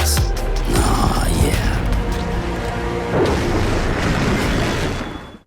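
A loud, booming explosion from a Metal Gear video game, with a heavy blast near the start followed by several seconds of sustained rumbling, crackling debris and mechanical clatter before it cuts off.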